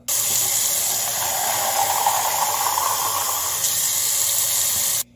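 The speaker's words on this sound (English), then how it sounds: "And then fill it with hot water." Hot water streams steadily from a tap into a cup, a constant rushing hiss lasting several seconds before cutting off abruptly.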